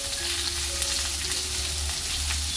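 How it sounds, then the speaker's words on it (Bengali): Spinach frying in a little oil in an iron wok, a close, steady hiss and sizzle that continues evenly with no break, under a faint low hum. "এইবারে পালং শাকটা দিয়ে দিলাম। খুব অল্প তেলে কিন্তু লোহার কড়াইতে রান্না করা যায়"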